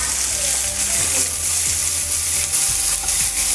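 Two finely chopped large onions sauté with cardamom in hot oil for a dhaba-style paneer masala, a steady close sizzle and crackle with occasional stirring scrapes and no voices.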